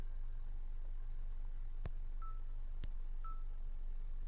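Phone dialing in the survival game Survivor's Guilt: a few short keypad beeps spaced about a second apart, with brief clicks, over a steady low background hum and no talking.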